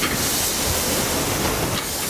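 Italian sweet sausage sizzles in a hot pan with a dense, steady, close hiss and crackle that stays constant throughout.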